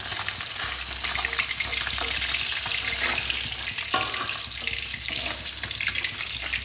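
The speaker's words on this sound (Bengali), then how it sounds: "মাছগুলো ঠিক এইভাবেই ভেজে নিতে হবে" Bata fish frying in hot oil, a steady dense crackle and sizzle close by, with a brief louder pop near the middle and no voices.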